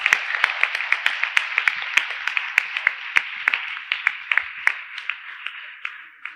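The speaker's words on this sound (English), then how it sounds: "Can we applaud their teachers?" An audience at a World Environment Day celebration claps for the teachers, a thin scattered applause of irregular sharp claps, moderately close, continuing steadily for several seconds.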